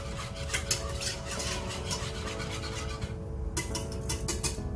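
A utensil scrapes and stirs through a thick baked macaroni and spaghetti mixture in a pan, a soft, steady run of rubbing strokes with occasional clinks, faint and close.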